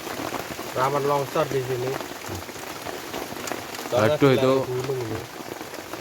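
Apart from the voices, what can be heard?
heavy rain falling on a campsite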